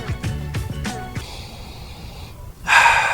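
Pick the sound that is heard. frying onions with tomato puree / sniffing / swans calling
sniffing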